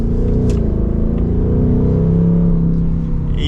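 A 2024 Ford Mustang GT V8 with automatic transmission cruising in normal mode, a loud, steady low engine drone with a slowly rising pitch, heard from inside the cabin without any talking.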